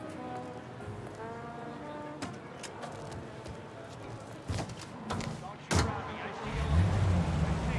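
A car in the Mafia Definitive Edition video game, with a door slam and a low engine rumble starting up after people talk over a quiet street background with birds.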